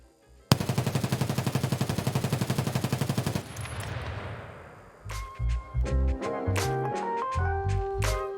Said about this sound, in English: next up we have the MK-47 with the 50 faster fire rate